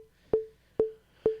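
Metronome ticking in a steady, even pulse, three sharp pitched clicks roughly half a second apart, clear and alone.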